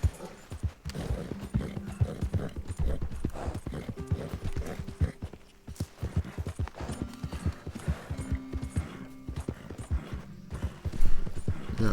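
Horse hooves clip-clop steadily while riding in Red Dead Redemption 2, a continuous loud rhythmic trotting over a low game ambience, with a brief whinny-like sound near the end and no talking.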